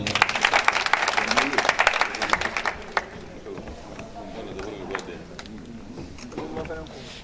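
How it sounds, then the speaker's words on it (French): Applause from an audience at an award ceremony, loud dense clapping for the first three seconds, then thinning into scattered claps under background voices. "On va applaudir, s'il vous plaît."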